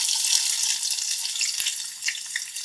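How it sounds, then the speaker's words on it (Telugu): Onions and curry leaves fry in hot oil, giving a steady close hiss and crackle with a brief sharp tap partway through, no voices present. "ఉల్లిగడ్డలు వేసుకుందాం"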